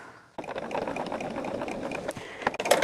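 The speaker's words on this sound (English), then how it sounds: "I am going to just sew off that corner." A sewing machine stitches off the corner of a quilt binding, starting abruptly and running as a steady close mechanical whir of rapid needle strokes for a couple of seconds, with a few clicks near the end.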